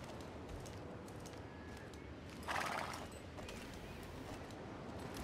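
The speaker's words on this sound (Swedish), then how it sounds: "En av mina favorithästar." Horse hooves clip-clopping in the video game Star Stable Online, a soft, steady rhythm of faint hoofbeats over a quiet ambient bed, with a brief brighter burst partway through.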